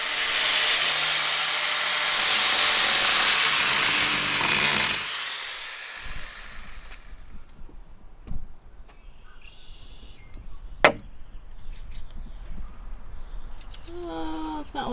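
A power grinder roars loudly and continuously for about five seconds during work on a stealth camper build inside a Mazda CX-5 SUV, then cuts out, leaving quiet room sound, scattered knocks and a person talking.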